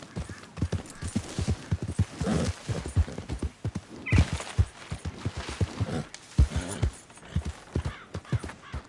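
Rapid hoofbeats of a horse galloping across ground in the video game Red Dead Redemption II, a steady drumming rhythm that runs throughout, close and fairly loud, with faint spoken words now and then.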